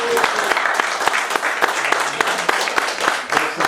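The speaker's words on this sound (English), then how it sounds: "I think it deserves another round of applause." Guests at a book launch in Pretoria give Winston another round of applause, with lively clapping from a smallish crowd, individual sharp claps standing out near the listener over the general patter.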